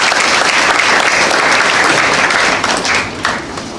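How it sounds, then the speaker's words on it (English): Audience applause for a panel moderator at a university student discussion, a dense, loud burst of many hands clapping that holds steady, then thins and fades toward the end. "a round of applause for him."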